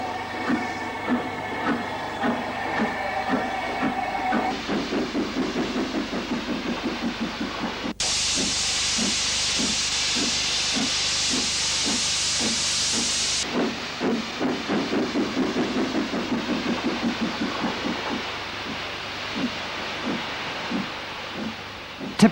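The steam locomotive City of Salford, a Pacific, departs a station with rhythmic chuffing exhaust beats that quicken steadily, accompanied by loud hissing steam bursts in the middle.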